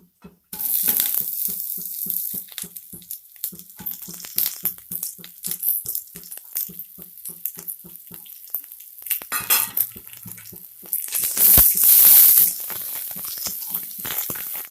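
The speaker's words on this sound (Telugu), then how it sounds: "ఇవి వేగే సమయంలోనే ఆనియన్స్ వేసుకుందాం." Sliced onions drop into a pan of potatoes frying for spicy masala aloo kurma, giving a steady close sizzle under a run of rhythmic stirring taps that swells into a louder hiss near the end.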